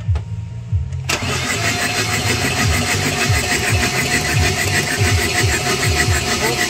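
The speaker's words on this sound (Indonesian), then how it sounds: "Coba starter, Bos." A Chevrolet Captiva diesel engine, revived after sitting unused for a year and a half, cranks with a rhythmic starter chug, catches after about a second and settles into a loud, steady clattering idle close by.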